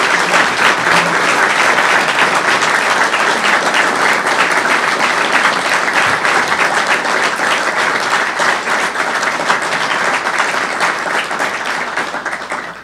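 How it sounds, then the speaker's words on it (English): Sustained applause from an audience gathered at a governor's press announcement naming a new economic development director, steady and dense throughout with no talk over it. "Well, Val, we take that applause as a vote of confidence from those assembled here"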